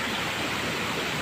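Steady rushing water of a mountain river, a full, even wash of flowing noise, close and unbroken with no voices.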